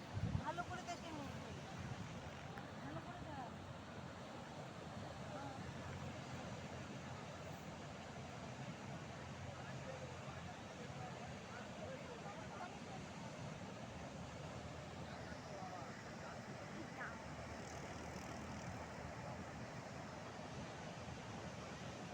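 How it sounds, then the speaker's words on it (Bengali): Sea waves break one after another on the beach at Puri, a steady broadband roar of surf with cold sea wind rushing over the microphone throughout. "পরের পর ঢেউ এসে যাচ্ছে। ঢেউটা কিরকম ভাঙছে, এই ঢেউটা দেখ।"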